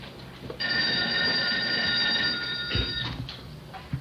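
An old-fashioned telephone bell rings in a home, one long loud metallic trill of about two and a half seconds, followed by faint household clatter.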